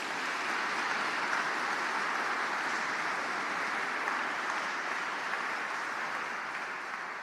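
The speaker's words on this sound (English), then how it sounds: "Let's give a big clap to our award leaders." Sustained applause from a congregation in a cathedral for youth award leaders, a steady, even wash of clapping that sounds somewhat distant and reverberant, holding for several seconds.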